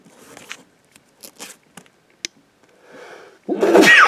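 A loud sneeze bursts out near the end, preceded by sniffs and small rustling sounds while sorting through a dusty box of comic books.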